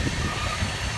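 A train rolls along the railroad as a steady, loud rumble with a dense low roar, heard continuously for a moment without any voices.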